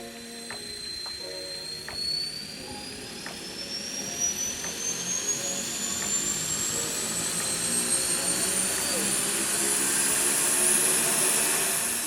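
A CubCrafters backcountry turboprop aircraft engine spools up, its whine rising steadily in pitch over a low rumble, with a few faint clicks early on.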